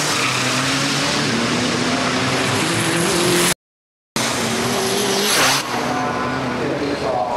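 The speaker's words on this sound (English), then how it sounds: "Green light, engine's revving, get ready to go." Super Dragster Diesel engine at full roar on the drag strip, a loud, dense, sustained blast that cuts out briefly and returns with tire squeal, launching hard from the line.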